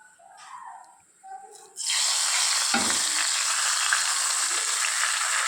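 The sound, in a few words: tempering being added to lentil dal, sizzling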